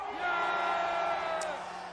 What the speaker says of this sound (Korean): 여기 10대 있으면 전방으로 함성!